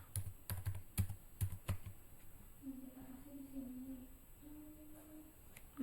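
Keys clatter on a computer keyboard while code is typed, a quick burst of clicks early on, then quieter with a faint tonal hum and soft background noise.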